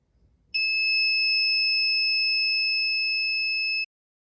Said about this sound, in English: a high water level will cause the active buzzer to be activated